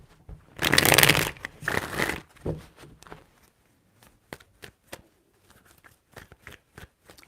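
Tarot cards are shuffled close up, a loud riffling burst followed by a second shorter one, then scattered light taps and card slaps, with no voices.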